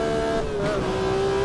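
A race car in the Automobilista racing sim slides sideways, its engine droning steadily with a pitch dip and recovery as the slide is caught, loud and close with no talk.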